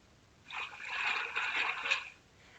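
Water stirred with a stick in the Mini Mash Builder's Tray app, a soft sloshing, splashy swirl that rises after a quiet start, holds for about a second and a half, then fades, with no voices.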